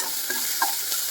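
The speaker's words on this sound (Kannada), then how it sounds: "ಕರ್ಬೇವಿನ ಸೊಪ್ಪು ಹಾಕಿರ್ತೀವಲ್ಲ, ಅದು ನೀಟಾಗಿ ಕಂಪ್ಲೀಟಾಗಿ ಫ್ರೈ ಆಗಬೇಕು" Curry leaves frying in a pan of oil for soppu sambar, giving a continuous bright sizzle with a few soft stirring clicks, close and steady, no voices.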